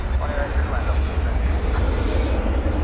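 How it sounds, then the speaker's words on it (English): Qantas Boeing 787-9 Dreamliner at night at an airport, a steady low jet engine rumble and whine, moderately loud and continuous, with background murmur. "This is going to be Qantas, a 7879 Dreamliner going to Melbourne."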